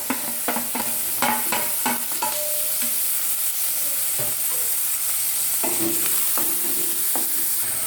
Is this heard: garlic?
yes